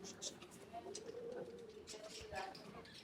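Pigeons kept at a house in Multan coo softly in a low, rolling call that rises and falls under a person talking nearby, with faint bird chirps.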